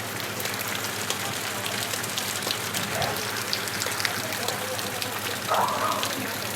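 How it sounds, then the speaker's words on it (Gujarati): Rain falls over a market street in Bhavnagar in a steady, even hiss of drops on surfaces, with faint background activity and brief indistinct sounds mixed in. "હવે કાંઈક વરસાદ પડી રહ્યો છે જો બજારમાં"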